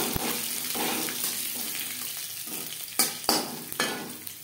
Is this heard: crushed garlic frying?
yes